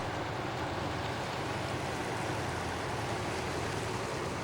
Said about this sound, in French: Les vagues commencent à arriver.